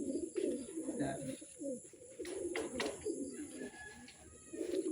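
Pigeons coo steadily at close range, a soft continuous warbling with a few brief chirps, as the birds come in and land during a homing training session.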